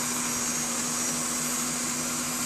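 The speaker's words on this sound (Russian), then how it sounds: "у меня миксер с подогревом" A heated stand mixer whipping fruit puree for marshmallow runs with a steady, continuous motor whir and a constant hum, alone and unchanging throughout.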